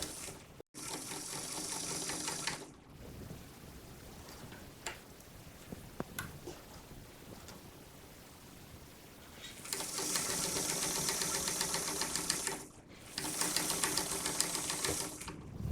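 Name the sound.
sewing machine stitching bias tape on a jacket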